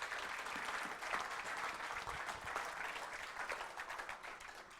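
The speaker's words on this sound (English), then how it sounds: "A round of applause." A small audience at a 1 Million Cups startup pitch event in Wichita applauds steadily, a dense wash of clapping that holds at an even level for the full stretch with no talk over it.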